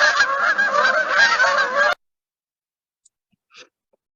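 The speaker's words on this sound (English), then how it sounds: "This is what a lot of geese sound like." Dense honking from a big flock of geese for about two seconds, loud and continuous, then abruptly cut to near silence with a faint stray sound afterward.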